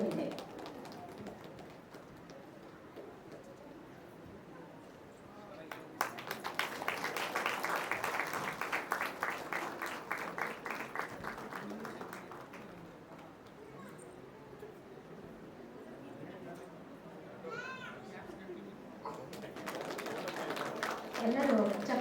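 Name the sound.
audience applause at a play performance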